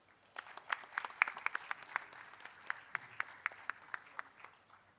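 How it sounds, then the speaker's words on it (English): Scattered applause from an audience at a panel discussion event greets a wing commander: a thin, fairly quiet patter of individual claps with a few sharper ones standing out, continuing for around five seconds with no talking. "let's give a big round of applause for none other than the wing commander who is sitting amongst us"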